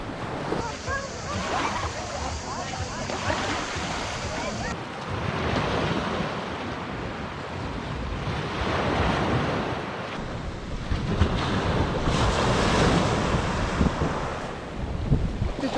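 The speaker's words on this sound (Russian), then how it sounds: "слушали шум моря, класс прям" Steady roar of surf washing ashore on a Halkidiki beach in winter, with gusty wind buffeting the microphone throughout and a few faint voices in the background.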